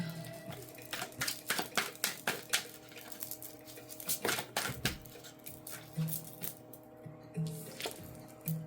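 Tarot cards are shuffled by hand in a loose kindergarten-style shuffle on a surface, making soft irregular slaps and rustles that come in uneven bursts for several seconds, close by and at moderate loudness.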